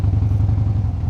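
A 2016 Harley-Davidson Street Bob motorcycle engine on a test ride, a loud, close, low rumbling V-twin throb with a steady pulsing rhythm and faint mechanical clatter, heard alone.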